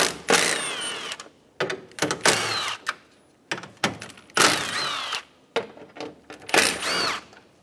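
Ratchet and socket work pulling out four 10mm bolts on the AC condenser and receiver drier assembly of a 2012-2020 Chevrolet Sonic, close-up bursts of clicking and whirring in several separate spurts with short pauses between.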